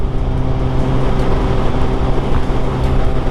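Steady, loud engine drone of a 2022 Suzuki Hayabusa motorcycle while riding, with continuous wind rush layered over the low harmonic hum throughout.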